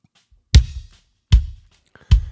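Inside and outside kick drum mics blended, giving three punchy kick drum strikes with a sharp click on top of a deep boom, evenly spaced and unaccompanied.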